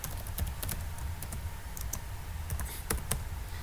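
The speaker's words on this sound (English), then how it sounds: "I need to take a typing class, I forgot how to type now" Keys on a computer keyboard clatter in uneven bursts of clicks during coding work, close and steady over a low background hum, with no voices.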